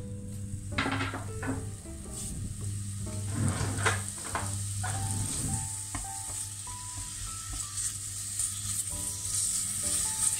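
Sliced onion rings sizzle steadily in a pan left over from a raclette-style grill meal, with a few scraping stirs and utensil clinks near the start over a constant close frying hiss.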